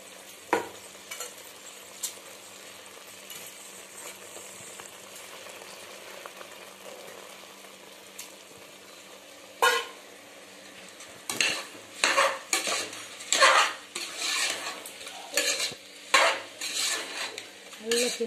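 A spoon stirs washed rice through sautéed onion and tomato in a pot for South Indian tomato rice, giving repeated scraping and clinking strokes that grow louder and more rapid toward the end, close by with no talking.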